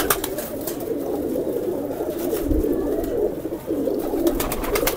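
Indian highflyer pigeons in a loft setup coo in a low, continuous, rolling murmur, several birds close by and overlapping, with a few faint clicks and rustles and no speech.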